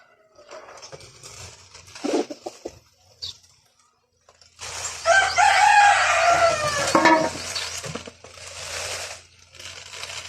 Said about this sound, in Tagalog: Maingay yung mga alaga kong manok guys.